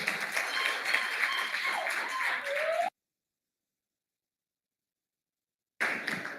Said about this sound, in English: A hand of applause to all the panelists this afternoon